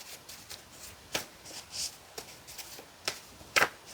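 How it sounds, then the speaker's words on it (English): Quick bursts of index cards being shuffled, several crisp riffling flutters and soft slaps spaced irregularly, close but fairly quiet, with no talking. "Just going to shuffle really quickly"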